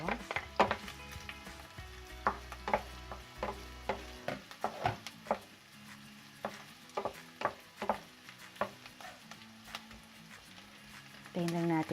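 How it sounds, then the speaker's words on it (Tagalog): Garlic is added to caramelized onions and sizzles in a frying pan while a Filipino igado dish is cooked. A soft, steady frying hiss runs under sharp clinks of a spoon stirring against the pan. "So, lagyan na natin yung bawang."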